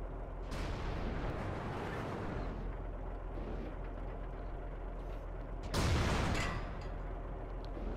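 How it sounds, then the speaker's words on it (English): In World of Tanks, a large artillery shell strikes the side of an E-100 heavy tank: a heavy rumbling battle bed throughout, with a sharp, loud impact burst near the end. "I take a rather large artillery shell, which, as we can see, hit the side of my tank at an angle"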